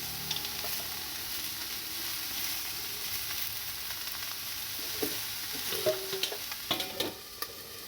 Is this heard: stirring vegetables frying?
yes